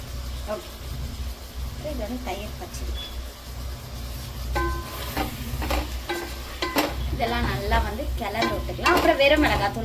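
Masala gravy with curd sautéing and sizzling in a frying pan while a spoon stirs and scrapes, steady frying hiss with intermittent clinks and scrapes that grow busier toward the end.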